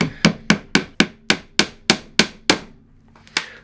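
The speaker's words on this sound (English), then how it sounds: "I'm going to hammer this nail through so it comes out the end here." Nail hammered through a wooden plinth, about twelve sharp evenly spaced strikes ringing out close and loud, with a short pause before a final lighter blow.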